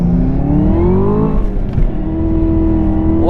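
A 2018 Camaro ZL1 1LE launching in first gear on a half-mile drag strip with its tires spinning, a loud close engine roar climbing in pitch, dipping briefly and rising again.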